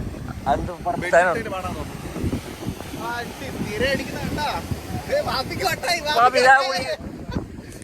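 Gusty wind at Omanapuzha beach buffets the microphone with steady rumbling noise, while people talk over it throughout.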